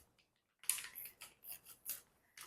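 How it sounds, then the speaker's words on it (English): Scissors snip through an oat flour package in a kitchen, a series of about six crisp, close cuts in an uneven rhythm after a brief quiet start, with no talking. "It's hard for me to use scissors,"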